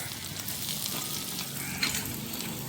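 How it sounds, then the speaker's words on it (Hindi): Onions frying in hot oil, a steady close sizzle and crackle with no talking. "हमारा ऑयल गर्म हो गया है, अब हम इसमें डालने वाले प्याज"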